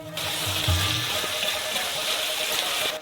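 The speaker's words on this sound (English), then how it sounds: "Fill this all up with water." Water pours steadily into a wok holding noodle sauce, a continuous hissing, splashing stream that runs evenly from start to finish, close and moderately loud with no speech.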